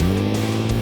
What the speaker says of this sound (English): It is a magnificent rally car they've built there.